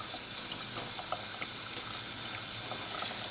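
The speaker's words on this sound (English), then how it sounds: "When you're done, a few more rinses. Rinse the brush." Water runs steadily from a tap as a shaving brush is rinsed after cleaning in a vinegar solution, a soft continuous splashing hiss with faint drips, quiet and close.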